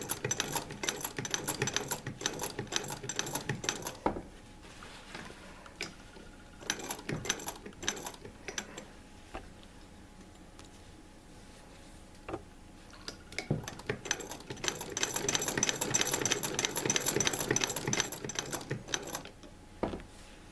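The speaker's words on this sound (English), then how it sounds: "And you can start sewing." A sewing machine stitches the seam of a throw pillow, its motor whirring in steady bursts that start, pause briefly and resume, close and fairly loud with small clicks between runs.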